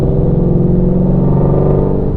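A Ford Mustang Shelby GT350's 5.2-liter V8 revs through its sport exhaust in fourth gear, a loud, close, continuous deep roar that holds steady throughout.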